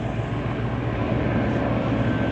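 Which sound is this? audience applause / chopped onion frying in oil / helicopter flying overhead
helicopter flying overhead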